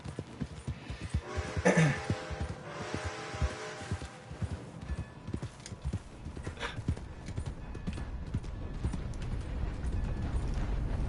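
Steady clip-clop of horse hooves at a trotting pace in Red Dead Redemption 2, with a brief whinny early on and a constant background rumble.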